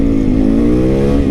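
A motorcycle engine runs loud and close, its steady throbbing note climbing slightly as it revs, with no voices over it.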